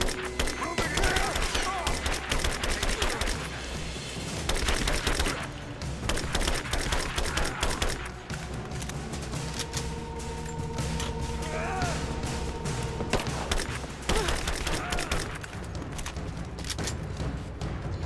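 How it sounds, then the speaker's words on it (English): Gunfire and explosions in the video game Rise of the Tomb Raider: dense bursts of shots and crashing impacts come in waves, with shouted voices and a game soundtrack underneath. "Open fire! Give me covering fire!"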